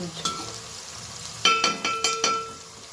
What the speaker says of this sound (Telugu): కొంచెం గోల్డెన్ కలర్ వచ్చిందంటే ఫ్రై అయిపోయినట్లనే